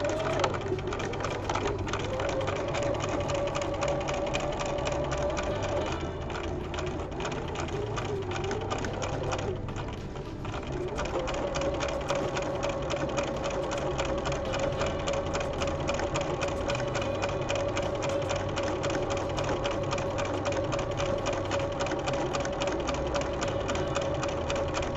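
Sewing machine top-stitching along the top of a pocket bag at a quarter inch, running slow and steady in a continuous mechanical hum with fine rapid ticking, briefly easing off mid-way before resuming at a constant pace.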